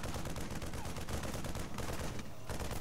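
A Marine firing his gun in the StarCraft video game, dense rapid bursts of gunfire that continue throughout, loud and close with no clear gaps.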